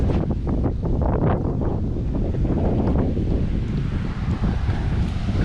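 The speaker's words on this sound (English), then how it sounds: "It's a bit windy." Strong gusty wind buffets the microphone throughout, a continuous loud roar with rushing surges and no voices.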